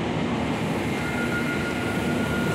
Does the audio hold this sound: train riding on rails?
yes